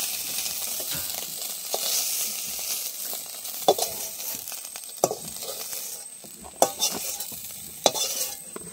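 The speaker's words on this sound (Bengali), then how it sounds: "বড় মাছগুলো প্রথমে ভেজে নিয়েছি, চুনো মাছগুলো লাস্টে দিয়েছি। ভাজা হয়ে গেছে" River fish sizzle and fry in a pan, with a steady crackle of hot oil broken by sharp clinks and scrapes as the pieces are stirred, close by and without talk.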